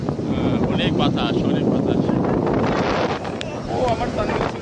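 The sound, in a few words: strong wind at Costa da Caparica beach, Portugal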